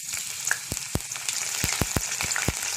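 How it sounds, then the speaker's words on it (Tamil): Cumin, black pepper, ginger and green chilli fry in hot oil in a pan, close and lively, with a dense sizzle broken by many sharp pops and spatters. "இது எல்லாத்தையும் ஆட் பண்ணி நல்லா ஃப்ரை பண்ணிக்கலாம்."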